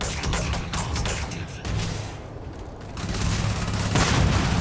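Gunshots from a weapon in a combat video game, a rapid cluster of sharp, loud cracks followed by rumbling booms and a swelling noisy roar.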